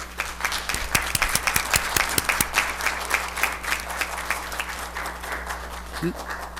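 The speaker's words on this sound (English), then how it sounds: "So let's give her a round of applause." An audience at a city council meeting applauds an honoree, with a burst of sharp individual claps early that thins into a softer sustained patter, a low hum underneath and a brief voice near the end.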